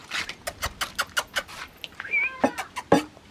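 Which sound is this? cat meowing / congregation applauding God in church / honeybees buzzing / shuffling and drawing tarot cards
cat meowing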